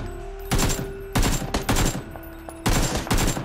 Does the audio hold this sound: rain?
no